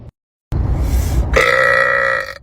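One long, loud, deep burp rises after a brief silence and turns into a drawn-out croaking tone before fading, close and alone.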